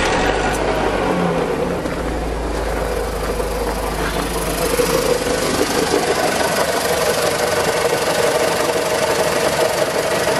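A Skoda car engine runs with a persistent knocking noise, a steady close mechanical rumble and rattle that continues throughout with no talk.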